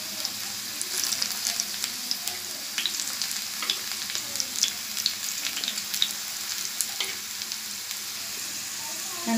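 Sliced bitter gourd deep-fries in hot oil for a chilli dish, giving a steady crackling sizzle with sharp pops throughout, fairly soft and with no voices.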